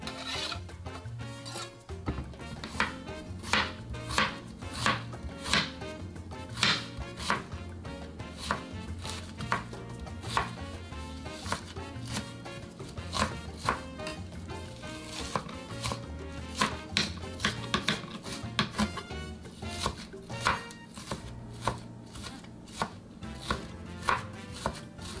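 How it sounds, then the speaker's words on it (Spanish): A knife chops an onion on a cutting board with steady, quick rhythmic taps, close by and fairly quiet, kept up for a long stretch over light background music, with no voices. "Ahora voy a picar la cebolla."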